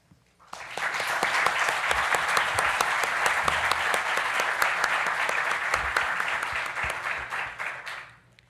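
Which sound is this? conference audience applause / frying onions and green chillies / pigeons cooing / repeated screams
conference audience applause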